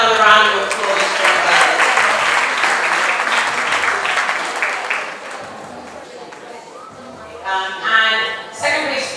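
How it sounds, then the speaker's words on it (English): Applause fills an award ceremony hall, sustained clapping from a large crowd that fades gradually and then gives way to a few louder, closer claps and voices near the end. "Let's have another round of applause"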